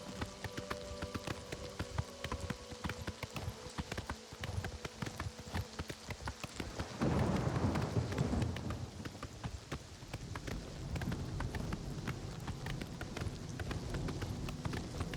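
Horse hooves in the video game Oblivion Remastered: a steady, rapid clip-clop of galloping hooves that runs throughout, with a burst of louder rushing noise partway through.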